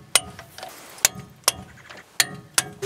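Ratchet wrench clicking in short bursts while front axle bolts on a Ford F-250 four-wheel-drive axle are tightened, five sharp isolated clicks spaced irregularly with quiet between, close and alone.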